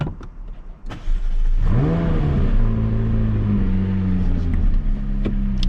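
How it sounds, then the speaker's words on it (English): A McLaren sports car fires up on a London street with a sharp starter catch, then its engine flares in a loud rising rev before settling into a steady, deep idle hum. "Little start up before we get going."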